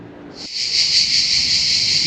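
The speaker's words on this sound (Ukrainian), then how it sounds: "Як же співають цикади в цих садах?" Cicadas in gardens in Taranto, Italy burst into a loud, continuous buzzing drone that sets in within half a second and holds steady.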